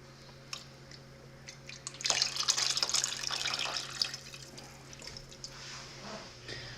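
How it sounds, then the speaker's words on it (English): Half and half pours into a soup pot of broccoli cheddar soup, a soft liquid splashing and trickling that swells for about two seconds mid-clip, then fades into faint drips over a low hum. "Now I'm going to add 2 cups of half and half to this"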